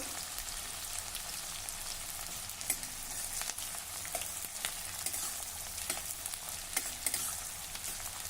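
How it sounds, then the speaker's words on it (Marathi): Coarsely chopped onion sautéing in a pan for spicy village-style kharda okra, a soft continuous sizzle with scattered spatula clicks and stirring, faint and alone. "आता हा कांदा आपण जरा परतून घेऊ"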